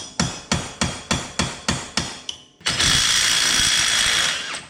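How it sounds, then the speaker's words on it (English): Hammer blows drive a punch to open a folded-over axle nut on a UTV during wheel bearing work: about eight sharp, evenly spaced metallic strikes, close and loud, followed by a sustained harsh grinding or spinning tool noise. "So we're going to take a punch and open that up."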